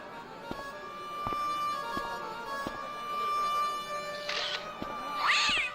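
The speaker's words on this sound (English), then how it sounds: "Now we got the cat." A cat in the video game Broken Sword meows twice near the end, short and fairly close over a quiet, steady game ambience with faint ticking.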